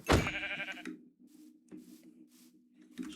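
A sheep bleats once in a video game, a short nasal call up front followed by quieter, faint game tones and a few soft clicks.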